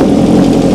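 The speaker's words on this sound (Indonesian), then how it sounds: "ini knalpot ori dari bawaan Kawasaki-nya udah kayak gini" A Kawasaki H2R motorcycle engine with its stock exhaust runs loud and close, a deep throbbing rumble holding steady over a short burst.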